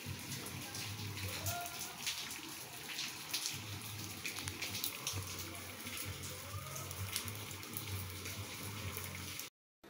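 Steady rain in Ceará, Brazil patters over a broad hiss with dripping water mixed in, while a low engine hum and faint voices run underneath.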